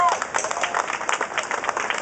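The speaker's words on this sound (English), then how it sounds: "Please give her another round of applause at Christine." Audience applause in a hall, steady clapping from a crowd lasting about two seconds, loud and continuous with light crowd murmur underneath.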